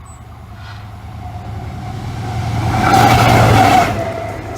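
Class 70 locomotive at Saxilby level crossing, a rumbling approach that swells from a low steady drone to a loud, close pass with bright rail noise near the end.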